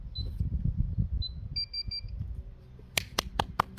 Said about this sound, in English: it's actually really quiet without that beeping now